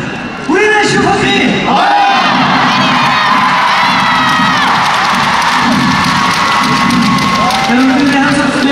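A large concert crowd of fans cheers and screams continuously, a loud high-pitched roar of shouting voices with rising whoops, filling the space throughout.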